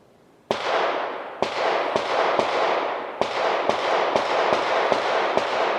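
Distant gunshots outdoors, a string of about ten sharp cracks at irregular intervals, each followed by a long echoing tail that fills the gaps.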